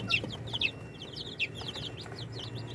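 Fayoumi chickens, some of them crossbred, clucking close by in a run of short bright repeated calls over a low background hum, with no voices.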